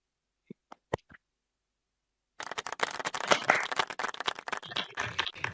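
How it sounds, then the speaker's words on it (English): Audience applause during an online community call, starting after a couple of seconds of near-silence broken by a few isolated clicks, then a steady, dense spread of clapping that continues to the end. "If we could get a round of applause for them."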